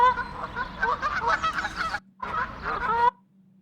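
A flock of geese honks in a dense, overlapping chorus, cut off abruptly by a short gap of near silence before the loud honking resumes, then stops sharply again.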